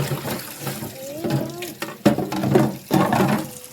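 Tap water running into an espresso machine's water reservoir at home, close splashing and gurgling in irregular bursts, with a brief voice in the background.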